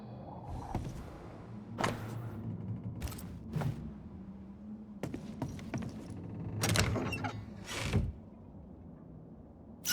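A crank mechanism being turned in the video game Banishers: Ghosts of New Eden, with a series of creaking, ratcheting mechanical clunks spaced irregularly over a low ambient hum, fairly quiet overall.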